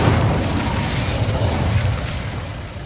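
An Incendio fire spell is cast in the video game Hogwarts Legacy, a loud, dense, roaring whoosh of flame with a heavy low rumble that holds steady and then slowly eases off, with no talk.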